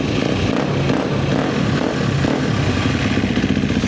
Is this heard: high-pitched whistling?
no